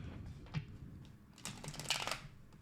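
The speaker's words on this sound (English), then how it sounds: "And do another quick shuffle." A deck of tarot cards being quickly shuffled by hand, with soft close riffling and flicking bursts at a low level in a quiet room.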